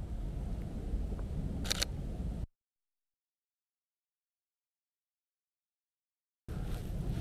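A single crisp camera shutter click, doubled quick and close, sounds outdoors in snowy Shakujii Park over faint background hiss, followed by a stretch of complete silence.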